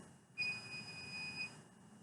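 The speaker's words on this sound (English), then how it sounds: "That's my security alarm." A home security alarm emits a steady high electronic tone lasting about a second, fairly faint against a quiet room hum, starting abruptly and then cutting off.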